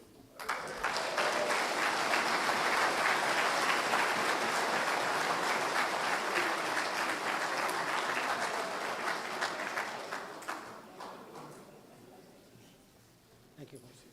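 A crowd gives a sustained, loud round of applause for MP Buckley Belanger at a public ceremony where the Saskatchewan premier apologized to Île-à-la-Crosse School survivors. The clapping holds steady for about ten seconds, then tapers off.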